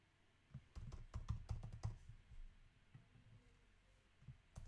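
Keys clacking on a German-layout Mac keyboard, a quick burst of close, rapid typing strokes that thins into a few scattered taps.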